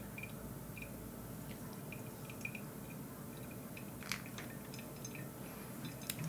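Coffee drips through a COLUM mini coffee dripper in a quiet room, with faint, irregular small drips and soft trickles that stay low throughout.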